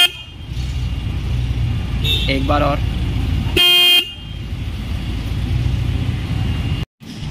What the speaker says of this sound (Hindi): हंटर बाइक में आपको सिंगल हॉर्न मिलता है, अब हम आपको प्रेस करके दिखाएंगे कितना लाउड साउंड जाता है।